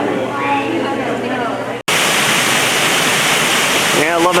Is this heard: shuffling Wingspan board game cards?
no